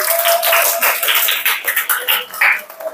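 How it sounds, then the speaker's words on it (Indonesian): A classroom of students clapping together, a lively patter of applause with uneven bursts and no talk over it. "Beri aplaus sekali lagi untuk diri kita masing-masing"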